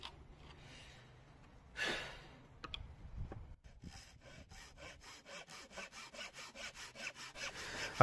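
Hand saw cutting a wooden shelf bracket to length, with steady back-and-forth strokes building into a regular rhythm, preceded by scraping and rubbing of the workpiece; close and moderately loud with no talking.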